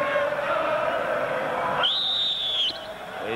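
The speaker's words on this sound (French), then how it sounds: "il y a eu un coup de sifflet de Michel Vautreau." A single sharp, high referee's whistle blast sounds briefly over a murmuring crowd in a large stadium during a football match.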